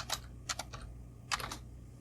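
A few quick keystrokes on a computer keyboard, two brief clusters of light clicks close by in a quiet room.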